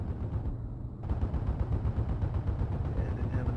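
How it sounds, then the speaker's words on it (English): Anti-aircraft flak firing in a flight combat game, a steady, rapid stream of gunfire bursts with a low engine drone underneath. "Gamecock taking some more flak"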